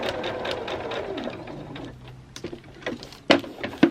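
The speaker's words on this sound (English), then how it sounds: "I'm going to sew the next seam, which is my C4, from point down to point" A sewing machine stitches a foundation paper-pieced seam from point to point, a fast steady whir that slows and stops, followed by a few sharp clicks and thread tugs, close by with no voice.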